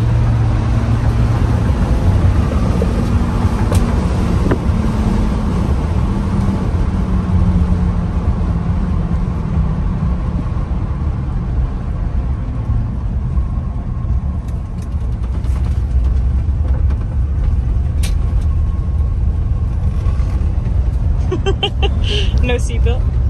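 A 1982 Chevrolet C10 pickup, driven for the first time in 22 years, gives a steady low engine rumble and road noise from inside the cab, with voices talking over it throughout.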